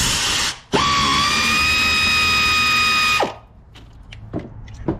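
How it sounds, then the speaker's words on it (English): Power tool whirring loudly and steadily for about two and a half seconds as a 13mm socket drives out a bolt on a 2012 Ford Escape transmission mount, then stopping, followed by faint clicks and handling noises. "Now we're gonna use the 13mm with our ratchet."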